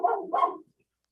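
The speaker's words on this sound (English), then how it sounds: "that's my dog Luna" A dog gives two quick close barks indoors, loud and sharp, followed by silence.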